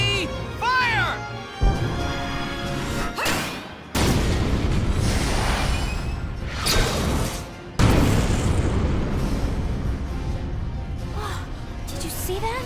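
Heavy tank shell fire from the Valkyria Chronicles battle at Barius: loud, deep booms punch through a continuous rumble of combat noise, with sharp blasts striking near 2, 4 and 8 seconds.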